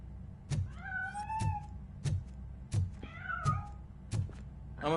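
A cat meows repeatedly in RoboCop: Rogue City, two drawn-out plaintive calls over a regular beat of heavy mechanical thuds, with another short cry at the end.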